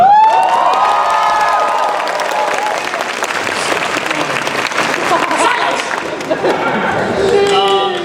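Loud, sustained applause and cheering fill a convention panel audience, with a burst of whoops at the start and dense clapping throughout, dipping slightly before swelling again near the end.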